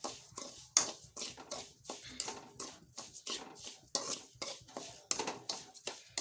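Kesari semolina being roasted in safflower oil in a pan on a gas stove, heard as repeated light scraping and clinks of a spoon against the pan in an irregular rhythm, fairly quiet.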